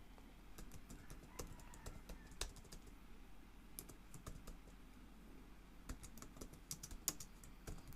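A computer keyboard clicks in short bursts of typing while code is entered, crisp keystrokes near and fairly quiet, with pauses between runs.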